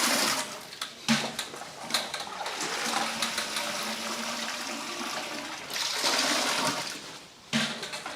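Peeled coconuts washed in tap water in a small coconut processing unit, with continuous rushing, splashing water and some clattering handling throughout, steady and fairly close, with a louder surge of sloshing near the end.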